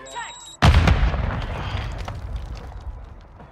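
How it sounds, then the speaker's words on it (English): A heavy grenade blast in a video game hits suddenly after a short quiet lead-in with faint voices, then decays into a long rumbling, crackling tail. "Put another grenade up there."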